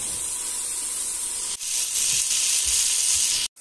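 Sliced bell pepper and carrot sizzle steadily in a hot frying pan for a stew, a loud continuous hiss with a few soft stirring knocks and a brief break near the end.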